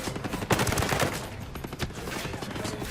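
Gunfire from the tactical shooter Ghost Recon, a dense run of bursts with a sharper shot near the half-second mark and another near the end, set against a steady busy game background.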